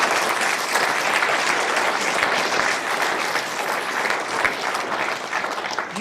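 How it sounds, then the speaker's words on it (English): Audience applause at a welcome home ceremony for the 191st Military Police, honoring the 188th military band, steady dense clapping from a large crowd throughout. "So if you all wanted to give the 188th a little round of applause, it'd be okay."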